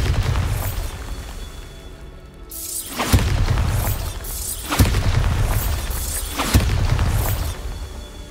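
Three loud, booming spell blasts from the Bombarda blasting charm in Hogwarts Legacy, each striking with a sharp crack and rolling rumble, spaced about two seconds apart after a quieter lead-in.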